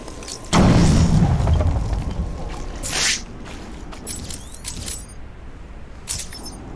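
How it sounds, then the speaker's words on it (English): Rocket launcher blasts in Batman: Arkham City: a heavy, close boom rolls out and fades, then a second sharper explosion follows a few seconds later, with lighter clatter and rumble trailing behind. "They've got freaking rocket launchers."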